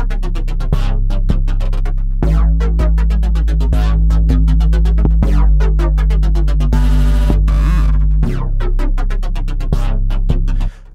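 A Dimension-D style chorus effect on a loud synth chord pattern, with its stereo width being adjusted. Repeated rhythmic chords play over a deep bass throb, with no voice.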